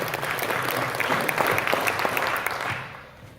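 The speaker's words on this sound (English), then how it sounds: "please clap for that" Town hall crowd clapping in a steady, dense burst of applause that fades out near the end.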